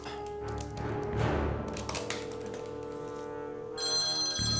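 An office telephone rings through a busy, cluttered background, its repeated tones clear but partly crowded by other noise.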